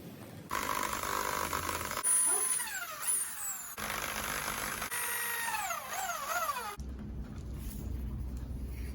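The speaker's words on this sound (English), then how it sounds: "So we have drilled a few holes at the base of the pole" A power drill bores holes into the base of an outdoor pull-up bar pole, its whining motor rising and falling in pitch through several bursts before cutting out, leaving a low background rumble.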